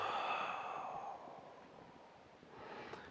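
Slow breathing during a qigong session, a soft drawn-out exhale of airy breath fading gradually, then a faint new inhale rising near the end, close and quiet with no talk.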